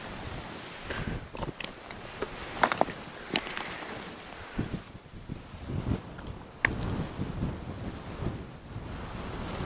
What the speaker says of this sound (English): Cold and windy today.